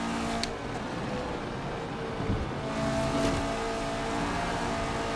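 A KTM X-Bow GT4 race car in Forza Horizon 4 drives at high speed with a continuous, fairly quiet engine drone, a few gear-shift bursts and faint tire noise along the way.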